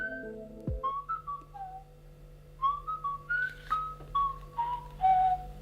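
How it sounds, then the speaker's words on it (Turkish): Talking Ben, the cartoon dog in the My Talking Ben game, whistles a short playful tune of rising and falling notes, clear and close, with no talking. "ıslık çaldı lan bu deli"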